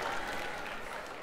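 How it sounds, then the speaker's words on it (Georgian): Audience applause at a televised X Factor 2018 singing contest, a steady dense wash of clapping that fades slightly over its short span, with no voices. "აპლოდისმენტები!"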